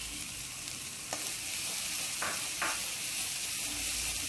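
Spices frying and being stirred in a pan for spicy bhindi masala, a steady close sizzle with soft scraping stirs throughout.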